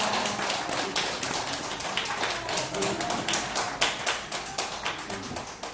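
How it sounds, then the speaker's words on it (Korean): A church congregation claps together for a member's 82nd birthday during a Sunday service, with dense, steady applause that keeps going throughout and a few louder claps standing out near the end. "케이크를 교회에서 전달할 때 여러분 같이 박수로 환영해 주시기 바랍니다"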